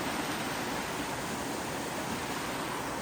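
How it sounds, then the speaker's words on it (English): A small waterfall in the mountain village of Piodao gives a steady, even rush of falling water, soft and continuous, with no voices. "Lovely little waterfall right here in the village."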